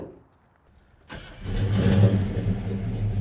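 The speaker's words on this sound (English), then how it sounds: "You gotta love when cars just start like that." A numbers-matching 1969 Chevelle SS cranks briefly after a quiet pause, then its engine catches and settles into a loud, steady, rumbling idle close by.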